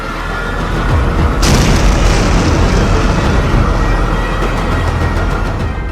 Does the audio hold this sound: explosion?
yes